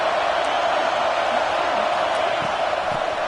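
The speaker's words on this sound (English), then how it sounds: "This crowd, full throat, spreading the eardrums and letting them know it's going to be a long day." A stadium crowd at a football game roars in a loud, dense, unbroken wall of noise that holds steady throughout.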